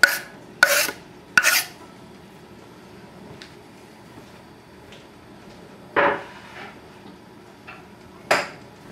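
Shallots being sliced thinly with a knife on a board, a few sharp rasping cuts close by, some clustered together and others spaced out, with quiet pauses between them.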